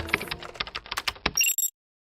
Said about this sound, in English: Her voice cuts out abruptly, replaced by the sound of a rapid typing